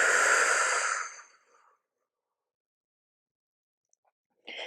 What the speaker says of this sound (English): take another cleansing breath. Big open mouth exhale.